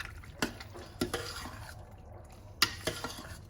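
Cooked noodles for mac and cheese get stirred in a pot with a utensil, a few soft wet clinks and scrapes at irregular intervals over quiet background.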